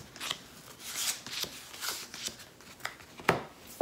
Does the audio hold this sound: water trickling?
no